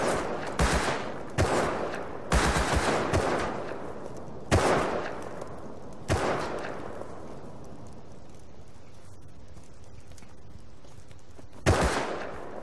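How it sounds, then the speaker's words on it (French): Thompson submachine gun in the video game Rust fires several sharp, loud bursts and single cracks with gaps between, each trailing a short echoing tail. "Ça c'est ma Thompson ça."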